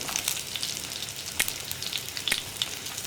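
Ginger, garlic, onion and green chili hit hot oil with fenugreek for a vegetable curry, sizzling and crackling close up, with scattered sharp pops over a soft steady fry.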